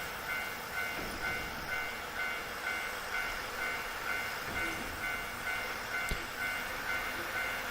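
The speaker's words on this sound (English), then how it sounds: "you can pick a spot where you want to watch as the train moves" Train rolling along in the video game Nostalgic Train, a soft, steady rumble with faint rhythmic clatter and a few sharp metallic clicks, fairly quiet and without voices.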